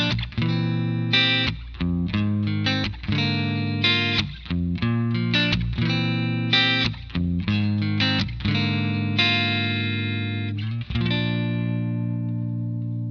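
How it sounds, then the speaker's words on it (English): Distorted electric guitar chords through an ambient reverb preset on a Sonulab StompStation ring out in rhythmic stabs, each wrapped in a lush, long reverb that trails off into a shimmering wash at the end. "this reverb sounds incredible"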